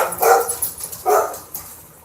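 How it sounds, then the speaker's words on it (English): A dog barks close by, two sharp, separate barks about a second apart with a short yelp between, against a quiet background. "I get dogs barking."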